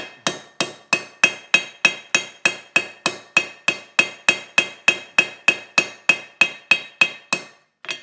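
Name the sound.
ball peen hammer tapping down rivet head edges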